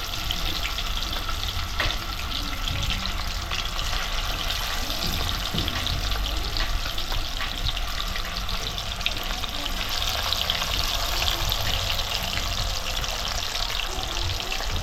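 Fish fry in a home kitchen in hot oil, a loud, dense, unbroken sizzle that holds steady for about fifteen seconds with no talking over it.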